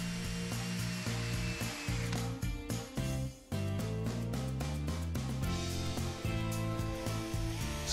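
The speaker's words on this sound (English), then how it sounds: "This is achieved by moving the drill bit inside the hole from side to side." Power drill running with its bit worked side to side inside a hole in a composite deck board, a loud continuous whirring grind with brief dips as the bit shifts, close and alone.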